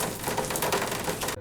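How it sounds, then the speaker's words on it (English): Recorded rain loop playing softly as background ambience indoors, a dense, even patter of drops that runs steadily for over a second before cutting off abruptly. "I've got a rain loop in the background"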